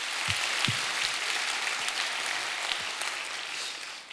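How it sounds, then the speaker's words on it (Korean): A church congregation claps together during a worship service, a steady, moderately loud wash of applause with a few heavier thumps, holding for several seconds before easing off at the end. "이 일을 행하신 하나님께 영광의 박수를 다시 한번 올려드리겠습니다."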